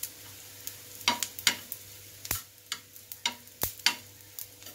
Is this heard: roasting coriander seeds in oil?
yes